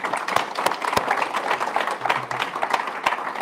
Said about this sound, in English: round of applause for our chair